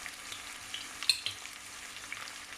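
Three garlic cloves fry in a pan for a fish curry, producing a faint, quiet sizzle with a few small crackles and a brief clink near the middle, with no speech.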